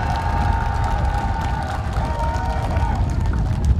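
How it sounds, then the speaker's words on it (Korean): A crowd at the opening of an independent Yeongju city council candidate's campaign office claps and cheers loudly in a dense, continuous roar, with voices mixed in. "저 친구들이 아까 제가 연설할 때보다 박수를 좀 더 크게 치는 것 같은데"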